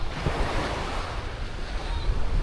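Ocean surf washes steadily against a Boracay Island beach with gusty wind buffeting the microphone, a continuous roar with no voices.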